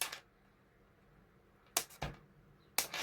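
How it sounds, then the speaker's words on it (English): Scissors snip through paper in a few sharp, separate cuts, with quiet pauses between them. "And then I'm going to bring in my scissors, and I'm just going to cut a"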